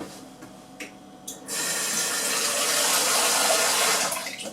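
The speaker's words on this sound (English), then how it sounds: "Add some more water." Water runs from a tap into a cooking pot for spaghetti, starting with a few small clinks and then a steady, moderately loud gush that fades slightly at the end.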